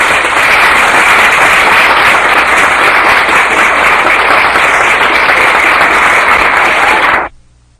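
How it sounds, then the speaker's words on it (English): A large audience at a 1968 Beverly Hills gathering of artists applauds loudly and steadily, a dense, sustained roar of clapping that holds for about seven seconds before stopping abruptly. "Thank you very kindly for your heartwarming applause"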